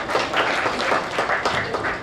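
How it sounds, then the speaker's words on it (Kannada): An audience at a stand-up comedy event claps steadily for the writer, a dense, even patter of many hands filling the space for a couple of seconds. "ಸೊ ಚಪ್ಪಾಳೆ ಕೊಡಿ ಫಾರ್"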